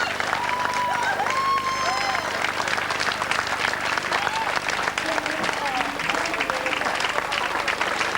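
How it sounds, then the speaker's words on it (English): A large crowd cheers and applauds continuously at the finish line of a European championship race in Veszprém, Hungary, a loud roar with bursts of clapping under a commentator speaking throughout. "a huge cheer as the Hungarian national flag is carried through the line"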